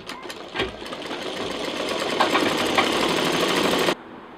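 A sewing machine stitches handbag fabric pieces together in a fast, even whir with a light rhythmic chatter. It starts slowly, runs steadily for about three and a half seconds, then stops abruptly.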